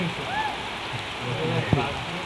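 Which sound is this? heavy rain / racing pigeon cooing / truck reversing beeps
heavy rain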